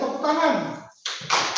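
Schoolchildren in a class on a Zoom call clap briefly in a couple of short bursts, mixed with young voices talking.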